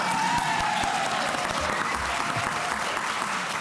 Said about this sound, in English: Can we have a round of applause, please, for love?